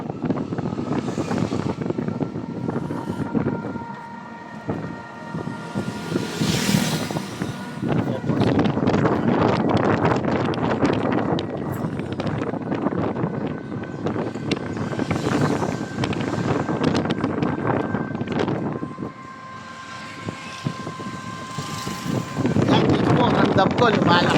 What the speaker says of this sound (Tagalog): hangin tapos ang ulan yan